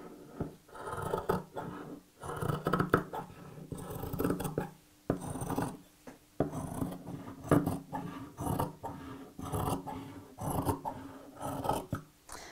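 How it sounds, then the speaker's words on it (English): Scissors snipping through fabric in a steady series of crisp, rasping cuts up close, with short pauses between strokes. "So I'm going to literally cut around the edge."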